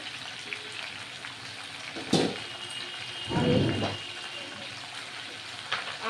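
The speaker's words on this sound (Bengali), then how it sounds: "এবার নাড়াচাড়া করব হ্যাঁ এই নাড়াচাড়া করছি" Mixed vegetables for Bengali niramish labra sizzle steadily in a frying pan, with two louder bursts of stirring and scraping rising over the constant hiss.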